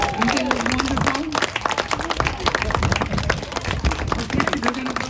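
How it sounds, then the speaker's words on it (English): Applause for the models at a designer's birthday celebration fashion show in Malibu: dense, steady crowd clapping that carries through the whole stretch, with a voice talking over it. "please give a round of applause for our beautiful models"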